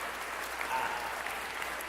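Applause from a small group, a brief steady patter of clapping under a faint hum, heard alone without voices.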